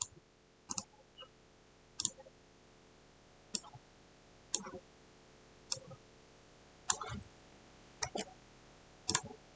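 Computer mouse button clicks during document editing: about nine crisp, close clicks spaced roughly a second apart, some doubled, over a quiet background with faint hum.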